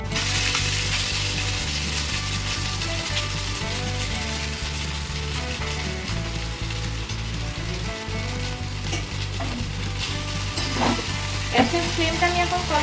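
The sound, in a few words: chowmein stir-frying with onions in a pan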